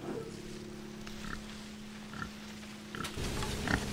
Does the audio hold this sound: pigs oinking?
yes